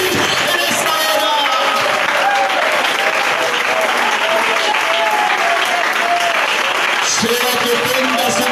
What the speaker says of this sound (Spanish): suelte ese aplauso